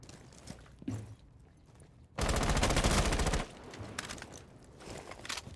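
Rapid automatic gunfire in the Rainbow Six Siege video game, a dense burst lasting over a second, framed by scattered single shots and quieter in-game movement sounds.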